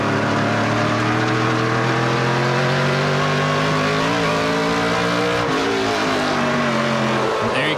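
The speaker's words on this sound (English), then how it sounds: "There you can hear the engine breathe as it goes over some of these humps." A NASCAR Pinty's Series race car engine runs at high revs over track humps, a loud, sustained drone whose pitch rises and dips as the car crosses the bumps.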